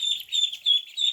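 Ducklings swimming on water give a run of high, thin peeps in quick bursts, close by and fairly soft.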